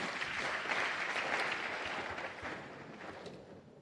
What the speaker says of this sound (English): May we applaud him.